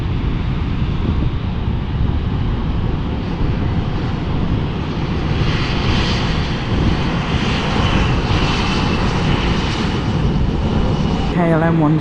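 A fixed-wing airliner coming in to land at London City airport, its engine roar steady and fairly close throughout, mixed with wind noise on the microphone.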